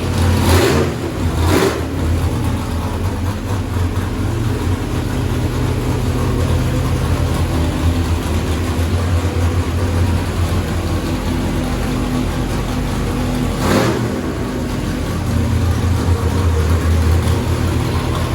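A 409 Cleveland V8 on an engine dyno with 2-inch headers roars loud and steady throughout, with brief surges in pitch near the start and again near the end.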